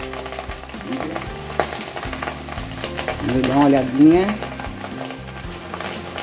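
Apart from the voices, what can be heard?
meat crackling as it caramelizes in a pan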